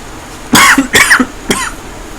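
A person coughs three times in quick succession, close and loud, with short gaps between the harsh bursts.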